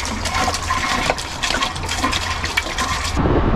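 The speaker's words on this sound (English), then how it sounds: "I also turned the pump on and put my foot on the pedal and filled it with even more water" An RV toilet, flushed with the foot pedal and the water pump running, rushes water down into the black tank in a steady close hiss and gurgle that lasts throughout, with a brief change near the end.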